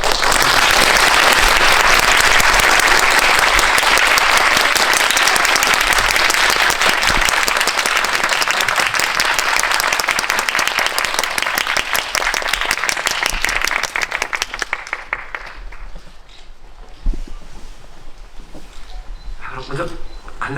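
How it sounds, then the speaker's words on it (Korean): Big, loud audience applause at a Korean film screening's guest talk welcoming the director and lead actress, dense and sustained for a long stretch before thinning into scattered claps and fading. "입장하실 때 용기를 드릴 겸 큰 박수 부탁드리겠습니다"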